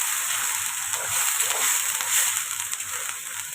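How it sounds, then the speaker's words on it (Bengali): Onion frying in hot oil with bay leaf, dried chilli and whole garam masala spices, giving a close, continuous bright hiss of sizzling that swells and eases slightly throughout. "দেখো এবারে দিয়ে দিয়েছি পেঁয়াজটা ভালো করে ভাজবো।"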